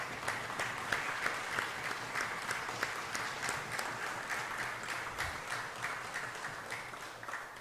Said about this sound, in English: If you would allow me, please, a round of applause